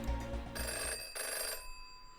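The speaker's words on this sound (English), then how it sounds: "a convenient phone rings. Not my cell phone, the store's landline." In a visual novel game, a store's landline telephone rings with a bright electronic bell tone in repeated bursts, fairly loud and near, then fading out with no talking.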